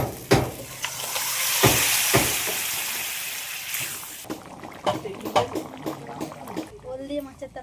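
Fish curry with ground spice paste and turmeric poured into a hot pan, giving a loud broad sizzle with splashes and stirring that fades after a few seconds, followed by scraping clatter and a voice speaking over it.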